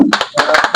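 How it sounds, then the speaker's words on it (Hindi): An audience claps at a live magic show where a magician swallows a sword: a short run of quick, separate hand claps close by, about five sharp bursts in under a second, with no talk. "ताली बजाइए"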